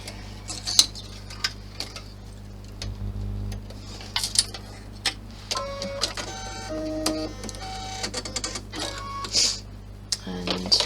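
An embroidery machine stitching placement lines onto stabiliser, with rapid mechanical ticking and whirring bursts, stops and starts, and a steady low motor hum underneath, close and fairly loud.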